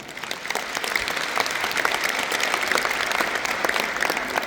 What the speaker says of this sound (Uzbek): Ana shunday talabalarimiz uchun bitta olqishlab qo'yamiz